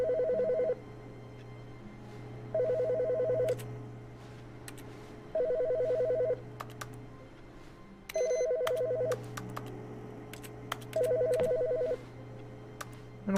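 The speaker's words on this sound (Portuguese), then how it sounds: "Tá tocando o telefone?" A telephone in the video game The Stanley Parable rings in five evenly spaced electronic bursts, each about a second long with pauses between, clear and fairly loud over a low steady hum.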